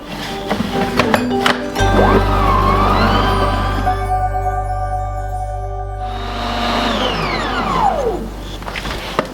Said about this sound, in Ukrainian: Кладемо в чашу блендера і збиваємо все до однорідності.